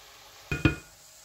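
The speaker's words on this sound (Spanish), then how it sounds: "lo vamos a mover todo y dejamos ya que se cocine un poquito" A spoon stirs lentils with cumin, turmeric and salt in a cooking pan, giving two short, close scraping clacks in quick succession against a faint background hiss.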